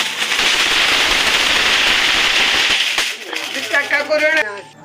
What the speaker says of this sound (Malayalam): പടക്കം പൊട്ടിക്കണേൻ്റെ ചെറുതായിട്ടൊന്നും ഒരു അറ്റംപ്റ്റ് ചെയ്ത് നോക്കി